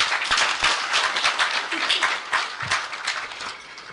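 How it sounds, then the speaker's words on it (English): Audience applause at a Ghana–Egypt investment seminar, a steady wash of many hands clapping that fills the room for several seconds with no talk over it. "Indeed, she deserves that round of applause,"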